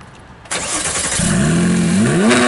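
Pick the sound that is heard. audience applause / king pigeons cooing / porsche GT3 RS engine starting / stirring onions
porsche GT3 RS engine starting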